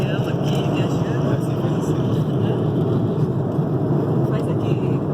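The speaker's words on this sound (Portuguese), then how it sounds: "Já dentro do avião aqui, viajando." Steady, loud broadband roar of a Delta airliner cabin in flight, a continuous engine and airflow rush that fills the whole span without letting up, heard from inside the cabin.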